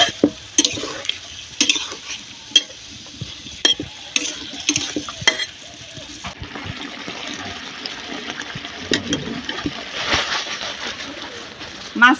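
Snakehead fish cooks down in a kadai with green chillies, cumin, garlic paste and a splash of water; repeated sharp scrapes and clacks of stirring sound over a soft bubbling sizzle.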